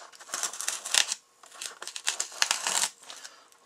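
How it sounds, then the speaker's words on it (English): A keyhole saw cuts out the outline of a bass taxidermy form, giving rapid rasping strokes in two bursts with a short pause between, close and fairly loud, no voices. "Keyhole saw works pretty good."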